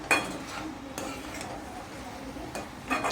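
Spatula scraping and clinking against a pan while stirring cabbage sabzi after salt is added, a few sharp metallic taps and scrapes spaced over a soft sizzling background.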